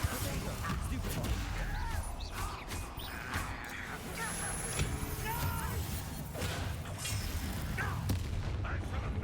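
Repeated spell blasts and impacts in Hogwarts Legacy, a continuous run of booming hits and cracks against a busy game background, with speech heard throughout.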